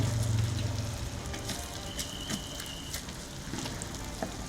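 Beef brisket trimmings frying in their own rendered fat, giving a steady, fairly quiet crackling sizzle with small pops throughout and no talk.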